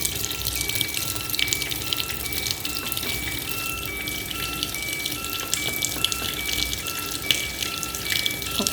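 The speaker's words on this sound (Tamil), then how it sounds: "தண்ணி வருது." Water pours steadily into a fully automatic washing machine, a continuous rushing trickle with faint intermittent beeps, heard close with no talking.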